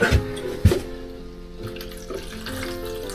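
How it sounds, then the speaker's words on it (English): Water poured into a container of seeds set in compost to soak, a couple of sharp splashes near the start, then a softer steady trickle running close by. "And I should put a bit of water in here"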